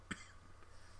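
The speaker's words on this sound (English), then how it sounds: "Sorry, cough." A single short cough, close and fairly faint, lands at the start and then fades into quiet room noise.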